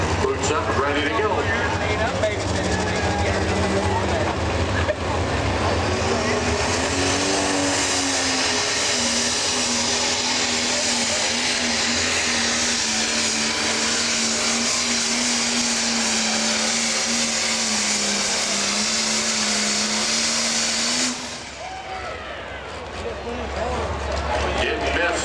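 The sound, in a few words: pro stock pulling tractor engine running down the track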